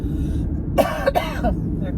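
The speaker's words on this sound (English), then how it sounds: "I get a tickle in my throat and I have to cough" A man clears his throat and coughs twice in quick succession, close and loud, between bits of chatty talk.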